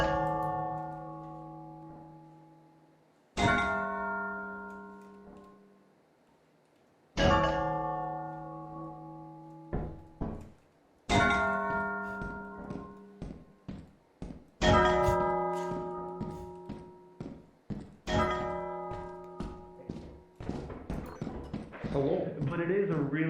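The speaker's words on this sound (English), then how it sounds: "did you guys hear the clanging of the bells?" Church-style bells in a video game ring out in a slow series of loud, resonant strikes, each decaying before the next, then quicken into a denser clanging run toward the end.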